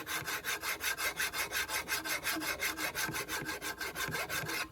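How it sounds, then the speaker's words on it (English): A file is drawn along the flat grind of a handmade knife blade in steady, even strokes, about twenty rasping passes in a regular rhythm, close and alone. "I'm going to take me a file, and I'm going to do what's called draw filing."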